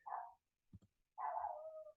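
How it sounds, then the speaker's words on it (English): Dogs bark outside, faint and muffled by distance: two drawn-out barks separated by a short pause with a couple of low thumps between them. "You guys can hear my dogs back barking outside."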